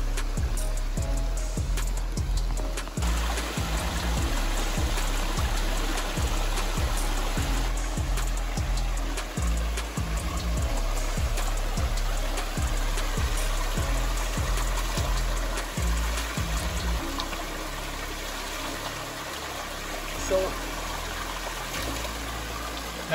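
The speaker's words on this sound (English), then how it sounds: "There's a little cascade right here." A small cascade on a Georgia hiking trail splashes and trickles steadily, a close, continuous rush of water with quick rhythmic pulses in the low end, running alone without voices.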